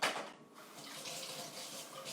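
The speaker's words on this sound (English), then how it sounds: "Washing my hands since I touched that." Hands being washed under a running kitchen tap, with a steady close splash of water that briefly dips near the start and then runs on evenly, no talking.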